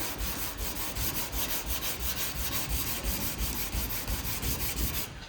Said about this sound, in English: So right here, what I have is a long block with 220 grit